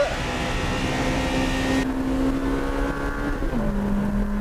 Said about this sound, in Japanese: 旧型インテの加速もいいぞ